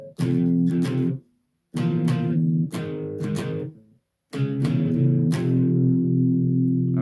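Distorted electric guitar power chords ring out in three bursts, each strummed down twice, with gaps of silence between groups and the final chord left to sustain and decay.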